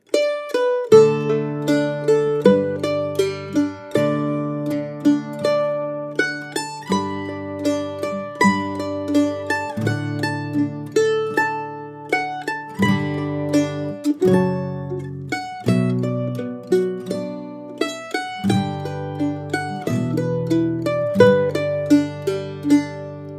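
A mandolin plays the Scottish folk song "Wild Mountain Thyme" with rapid crosspicked notes, bright and close, rolling steadily across strings without accompaniment.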